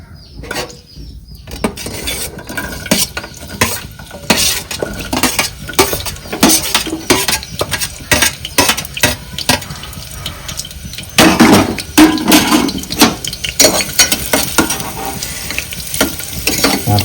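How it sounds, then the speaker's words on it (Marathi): Chopped onion sizzles and crackles in hot oil in a pan on a gas stove for a village-style mutton curry, with steady frying hiss, bursts of loud spattering and clinks of a stirring spoon against the pan. "मग आपण त्याच्यामध्ये कांदा परतून घेऊया."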